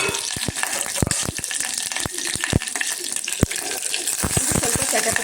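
Mustard seeds and curry leaves dropped into hot ghee for tempering a radish rasam pop and crackle in sharp, irregular bursts over a steady sizzle, close and fairly loud.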